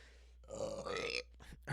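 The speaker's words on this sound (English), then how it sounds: "oh my God, I'm burping up a storm" A person lets out a single drawn-out burp lasting close to a second, moderately loud, followed by a short breathy sound and a rising noise at the end.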